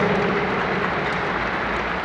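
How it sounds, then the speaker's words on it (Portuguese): Steady, dense applause from a congregation during a Catholic Mass marking the 100th anniversary of the 62nd Infantry Battalion of Joinville, filling the space evenly and continuously without pauses. "Uma salva de palmas"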